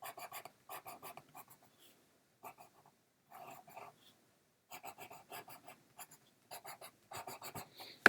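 Colour pencil writing on dark paper, likely white pencil lettering a birthday message: quiet close scratching strokes in short bursts with brief pauses between, no voices.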